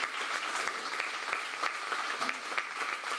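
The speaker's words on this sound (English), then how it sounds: "Give them one more round of applause," A room of people gives a steady round of applause for the candidates at a city council candidate forum, dense and even clapping with no talk over it.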